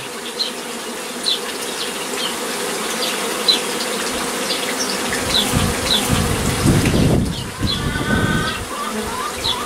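A honeybee swarm taken in a cutout from a possum box hums in a dense, continuous drone close by, with single bees zipping past and a rustling, handling noise partway through.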